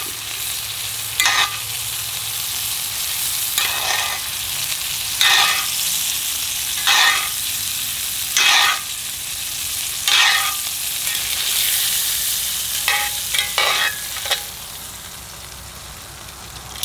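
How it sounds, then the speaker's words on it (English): Deer tenderloin steak sizzles loudly in a skillet while herb butter is spooned over it, a steady frying hiss broken by repeated rhythmic scrapes and splashes of the spoon every second or two. "Spoon that herb butter over your steak."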